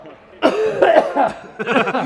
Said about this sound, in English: Totally unrelated cough.